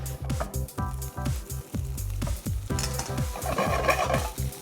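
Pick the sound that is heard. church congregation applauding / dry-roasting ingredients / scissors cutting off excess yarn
dry-roasting ingredients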